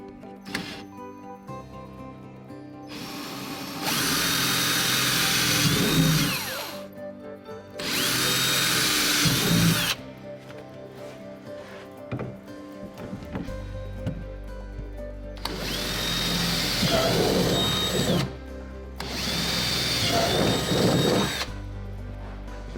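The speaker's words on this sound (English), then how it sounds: "So it's easy to drill them from the bottom up through the top." A power drill bores holes up through the underside of an Otter Lodge ice shack panel in four loud, sustained bursts separated by short pauses, each whirring steadily before spinning down.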